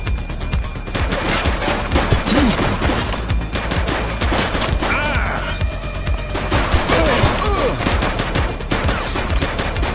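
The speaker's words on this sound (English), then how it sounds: "He's shooting!" Rapid gunfire rings out during a police shootout with a suspect in The Precinct, dense overlapping bursts of shots crackling continuously and loudly across the whole stretch.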